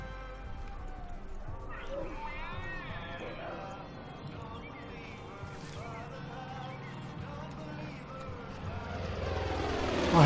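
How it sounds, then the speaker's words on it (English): A propeller airplane flying overhead in the video game Far Cry 5, a steady droning engine hum that grows slightly louder toward the end, mixed with game sounds and someone talking over it. "I hope that plane doesn't spot me"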